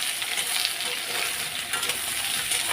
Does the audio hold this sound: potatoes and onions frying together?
yes